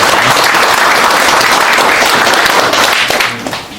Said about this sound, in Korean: 큰 박수 환영해 주시겠습니다